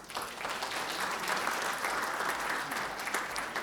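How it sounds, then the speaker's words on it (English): Audience applause for speakers at the Indonesia–Singapore Business Forum, a dense, even patter of many hands clapping that holds steady from start to finish in a large hall, moderately distant and fairly soft. "let's give a big applause to our speakers"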